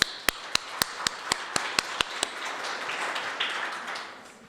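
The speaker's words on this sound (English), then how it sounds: "Another round of applause for Prof." An audience at a university research week launch gives a professor a round of applause, beginning with a handful of sharp, distinct claps that blur into a softer, thinning wash of clapping before fading out.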